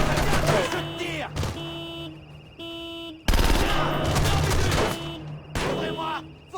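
Gunfire in the stealth video game Splinter Cell Conviction comes as several sharp bursts of shots with brief gaps between them, mixed with game music and effects, while characters shout in French.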